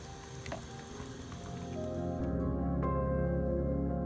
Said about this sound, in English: there's my pot all boiling